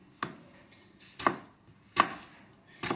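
Four evenly spaced, crisp knife chops on a cutting board while salad ingredients of avocado and corn are cut with a dull knife, each a sharp close thunk followed by a short ring-down.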